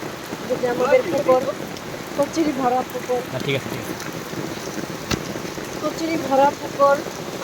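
Heavy rain pours steadily on surfaces in a village, a dense close hiss with scattered drips, and faint voices murmur beneath it.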